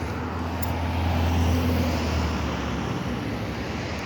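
Steady road traffic on a town street, a continuous loud rumble of cars and motor vehicles passing close by, with a low engine drone throughout and no talking.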